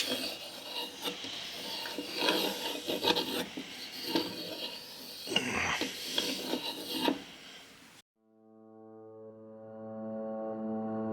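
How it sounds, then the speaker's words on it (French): A circle 20 cm across is cut from a glued wooden board, with rough, rasping cutting strokes heard close for about eight seconds before music takes over. "Donc je commence à découper un cercle de 20, le diamètre."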